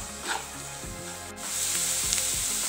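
Chopped green chillies and salt sizzle steadily in a pan while being stirred for beef cutlet filling, a close, continuous frying hiss with soft scraping strokes.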